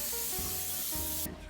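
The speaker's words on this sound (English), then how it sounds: "Cooking spray." Cooking spray is misted into a 13.5 by 9-inch baking pan in one loud, steady hiss that stops abruptly near the end, with no one talking.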